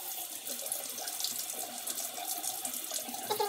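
Tap water runs steadily into a sink as a makeup sponge is wetted, a constant close hiss and splash with no talking.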